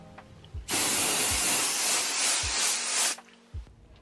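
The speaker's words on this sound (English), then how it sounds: "a spray that you can buy that you could spray on the actual vachetta leather" A steady aerosol spray of leather protector onto vachetta leather hisses continuously for about two and a half seconds, close and loud, with a few soft thuds before and after.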